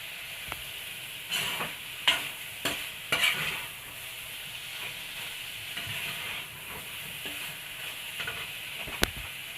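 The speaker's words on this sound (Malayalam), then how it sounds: "കുറച്ച് നേരം ഇളക്കി കൊടുക്കണം ഇതേപോലെ ഇടയ്ക്കിടയ്ക്ക്" Soya chunks fry with masala in a pan, a hissing sizzle punctuated by several quick spatula scrapes and clanks early on and a single sharp tap near the end, close and moderately loud, no talking.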